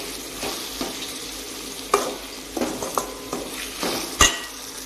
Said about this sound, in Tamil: இந்த எண்ணெயிலையும் நல்லா அப்படி ரோஸ்ட் பண்ணிடுங்க